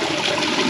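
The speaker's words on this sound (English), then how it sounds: "Oh, here goes the water." Water rushing steadily through a newly installed PVC drain line for laundromat machines, a continuous close hiss and gush that fills the whole moment without pause.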